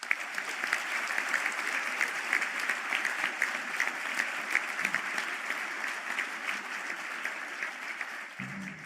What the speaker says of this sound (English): I think we'll give them one more round of applause.